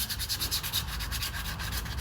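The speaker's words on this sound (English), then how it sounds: "Even though it's rubber, we sand" Rapid, rhythmic sanding strokes scrape back and forth on a rubber surface, close up and continuous, with no voices.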